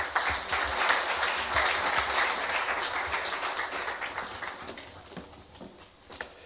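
An audience at a business awards ceremony applauds a prize presenter, a dense roomful of clapping that is loudest at the start and slowly tapers off, leaving a few scattered claps.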